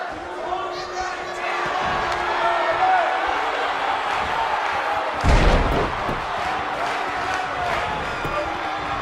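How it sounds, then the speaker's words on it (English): Sold-out arena crowd in the WWE 2K19 wrestling video game, a steady roar of cheering throughout with a loud thud or slam near the middle, talk running over it. "We have a sold-out, record-setting crowd here for BCW tonight."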